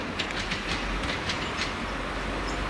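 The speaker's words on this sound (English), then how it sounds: "We now have the Manchester Piccadilly train approaching Cardiff." Manchester Piccadilly train, unit 175-003, approaching Cardiff Central station, heard as a steady rumbling roar with a faint rhythmic clatter of wheels over rail joints, near and continuous.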